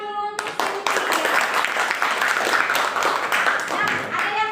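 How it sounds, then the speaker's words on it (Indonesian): A classroom of students clapping for a classmate, a dense burst of hand claps lasting several seconds, bracketed by a voice at the start and end. "tepuk tangan dulu untuk Cynthia"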